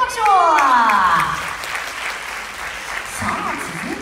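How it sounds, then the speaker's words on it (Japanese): An audience at a 2019 dance school showcase at Soulm8 Theater breaks into loud, sustained applause, with an announcer's voice talking over the start before the clapping continues on its own. "今一度大きな拍手を"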